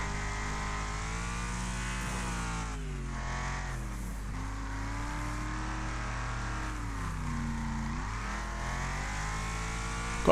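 Racing cars roar through a Wreckfest online race, a steady loud engine drone with shifting revs and gear changes rising and falling throughout, with no talk over it.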